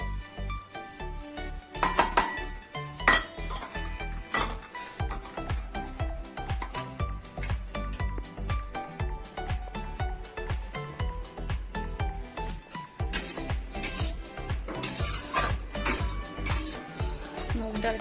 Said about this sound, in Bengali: মুগ ডালটা ভেজে রান্না করলে বেশি খেতে ভালো লাগে, তাই একটু প্রথমে ভালো করে ভেজে নেব।